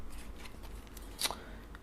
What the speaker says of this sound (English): While you're shuffling